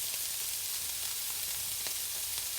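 Shallots and bacon frying in a pan as the bacon fat melts, a faint, even sizzle with light crackles throughout, no voices.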